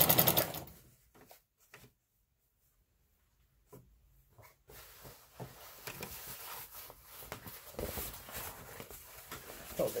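Sewing machine stitching a quarter-inch seam along the hem of a blackout lined curtain, a steady close mechanical whirr that starts after a brief quiet gap and runs continuously to the end.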